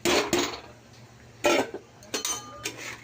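Fried rohu fish roe goes into a simmering curry with potato and pointed gourd in a pot, giving a few sharp metallic clinks and scrapes spaced apart over quiet background, with no talking.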